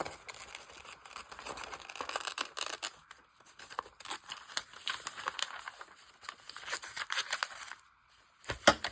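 Scissors fussy-cut around a small printed figure on paper, giving close, crisp snips and papery rustles in uneven bursts with brief pauses, no talking.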